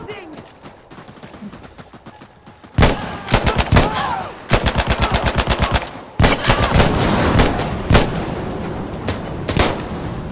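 Bursts of rapid automatic gunfire and single shots ring out in Insurgency Sandstorm, loud and close, with a quieter stretch before the shooting starts and brief pauses between volleys.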